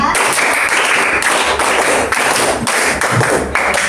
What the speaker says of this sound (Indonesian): Yuk, tepuk 5 2 kali.